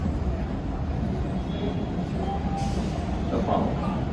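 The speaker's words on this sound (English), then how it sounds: "The next Alewife train on the Ashmont platform is now" An MBTA Red Line subway train arriving at the Ashmont platform as a steady, loud low rumble of rolling cars, with a faint high squeal partway through and no talk over it.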